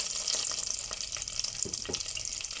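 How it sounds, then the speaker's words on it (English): Cumin seeds frying in oil and margarine, a continuous bright crackling sizzle with small popping bursts and faint stirring, close and steady. "add half a teaspoon of jeera or cumin seeds"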